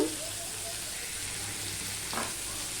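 Potatoes frying in hot oil with garam masala and bay leaf, a dense continuous sizzle that holds steady and fairly quiet, with a brief stir or clink near the end.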